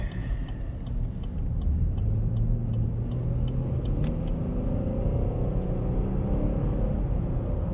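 A 2019 Chevrolet Blazer with a nine-speed transmission accelerates uphill on a cold day, a steady loud engine rumble and road drone from inside the cabin with faint ticking, no talk.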